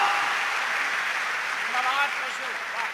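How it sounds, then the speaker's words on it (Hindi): A crowd at a poetry recital applauds continuously, a dense steady clatter of many hands clapping at even loudness throughout. "एक बार जोरदार तालियां बजाइए"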